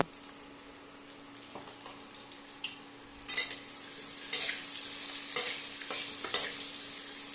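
Onion and a pinch of salt fry in hot oil in a wok with bay leaf, dry chilli and cumin, giving a soft continuous sizzle broken by scraping stirs that grow louder toward the end.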